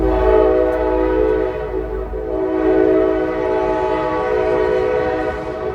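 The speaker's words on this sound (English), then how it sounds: "Stupid ass fucking train." A train horn blows loud and steady for several seconds as the train passes close by, its sustained tones held over a low rumble of rolling wheels.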